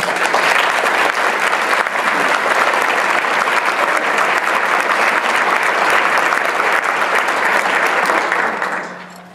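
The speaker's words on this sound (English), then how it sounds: "Let's please give everyone a round of applause." Audience applause fills a recognition luncheon, a thick, sustained round of clapping that stays loud and even for about nine seconds before tapering off at the end.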